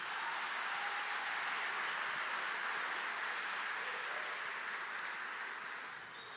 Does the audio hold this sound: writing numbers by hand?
no